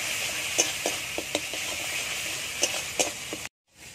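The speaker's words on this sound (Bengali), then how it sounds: "দিয়ে দেবো গোটা লঙ্কা, জিরে বাটা, ভালো করে কষিয়ে নিতে হবে।" Spice paste with softened tomato, whole chili and ground cumin fries in a pan with a steady, fairly quiet sizzle, broken by several short scraping stirs, before cutting off abruptly near the end.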